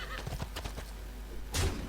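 A horse whinnies once in the Hearthstone card game, a short bright burst near the end that follows quieter clatter and game effects.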